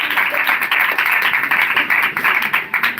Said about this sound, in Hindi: जोरदार ताली लगाएंगे यीशु के लिए